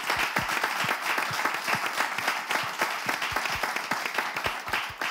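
An audience claps and cheers in sustained applause, steady and fairly loud, with individual sharp hand claps standing out across the whole stretch.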